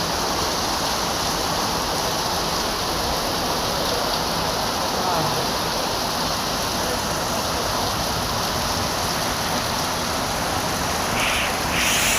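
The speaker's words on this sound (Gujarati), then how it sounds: "વરસાદ ચાલુ થાય છે" Steady heavy rain pours down continuously in Vallabhipur, a dense hiss of drops on surfaces with no break throughout.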